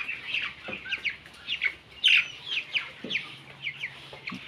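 Chickens cluck and chirp steadily during weighing on a poultry farm, several birds close by with repeated short calls and a louder squawk midway, no talk.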